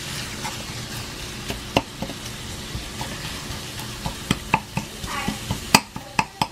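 Garlic and onion sautéing in a pan, a continuous close sizzle with frequent sharp clinks and scrapes of a utensil stirring against the pan, growing busier toward the end.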